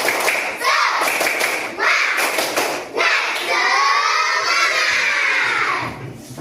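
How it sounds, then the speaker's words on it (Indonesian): A class of sixth-grade pupils performs the rhythmic spirit clapping routine (tepuk semangat), with bursts of clapping and children's chanted voices in short loud phrases and a longer sustained shout near the end. "Kita mulai pelajaran dengan tepuk semangat"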